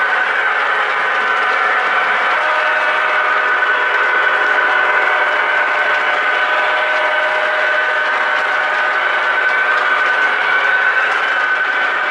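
A steady, loud tonal whistle sounds continuously over the hum of an O gauge model train running, unbroken for the whole stretch.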